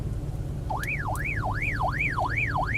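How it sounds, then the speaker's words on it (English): Baofeng UV-S9 handheld radio sounding its built-in audible alarm: a loud, rising-and-falling electronic siren sweeping steadily up and down about every third of a second, close by and alone with no talk. "audible alarm too."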